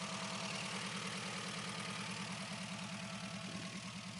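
Subaru Brat's boxer engine idling through a non-standard Jaguar exhaust, a steady low throbbing burble with an even pulsing rhythm, close and continuous with no talk.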